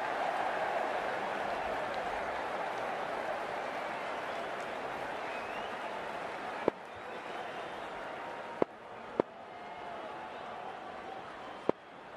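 Stadium crowd in the cricket video game Cricket 22 applauding and cheering as a steady, broad roar of clapping, thinning slightly toward the end and broken by a few sharp clicks.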